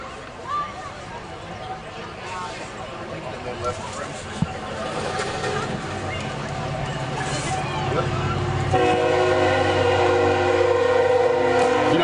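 A passing train near a high school football game blasts a loud, sustained, tonal horn through the final few seconds, after a stretch of crowd murmur and talking over the field noise.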